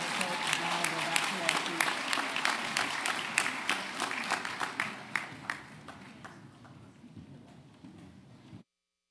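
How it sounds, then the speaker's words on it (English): Audience applause at a disability summit, a dense burst of clapping that thins into scattered claps and fades out before stopping. "one more round of applause for all of our Family Cafe folks"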